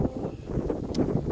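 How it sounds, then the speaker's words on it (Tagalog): Strong wind on Mount Batulao buffets the microphone in low rumbling gusts, with rustling texture and no clear voices over it. "Sobrang lakas ng hangin"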